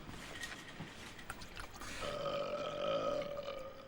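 A long, croaking burp from the comedy film Kevin & Perry Go Large, quiet and close, starting rough and rising into a drawn-out tonal belch over its final two seconds.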